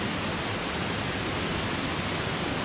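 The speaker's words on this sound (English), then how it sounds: "just giving you a rough idea of how high this waterfall is" Steady, dense roar of a tall waterfall reached by stairs at Vrede, a continuous broadband rush of falling water heard close and loud with no voices.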